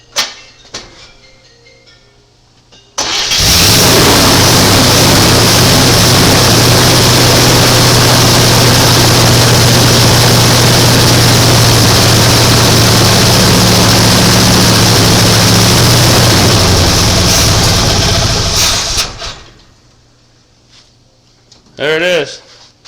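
A 1980 Chevy C30 dually truck engine, fired up for the first time in 26 years, cranks and catches into a loud, rough, sustained roar lasting about fifteen seconds before dying away, with voices speaking afterward.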